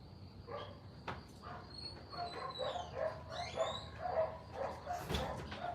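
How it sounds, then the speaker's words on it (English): A dog barks and yips repeatedly at mid distance, several short bursts across the clip, over a steady background hum with occasional whimpering tones. "I hear a dog barking"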